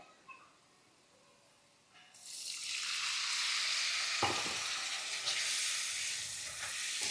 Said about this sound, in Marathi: आता मी काय करतेय, या फोडणीमध्ये अगदी थोडंसं पाणी टाकणार आहे, साधारण एक 2 ते 3 चमचे।